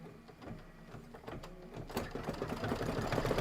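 An embroidery sewing machine stitches a tack-down line through vinyl for a Kimberbell quilt block, a steady rapid needle chatter that builds slightly louder and denser as the stitching gets going, with no talking.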